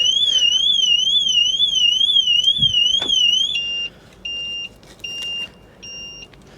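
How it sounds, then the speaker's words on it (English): A Renault Megane RS250 car alarm wails nearby in a rapid warbling siren, then switches to a loud repeating on-off beep pattern; no one speaks. "I've just noticed the alarm going off on the car"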